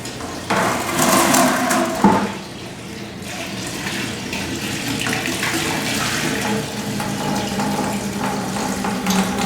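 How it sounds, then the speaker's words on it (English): Free-run grape juice pours steadily from a grape press into a bucket, a continuous close splashing trickle that holds level throughout with a brief dip early on, no voices. "The liquid that's running out of the press now is called the free run."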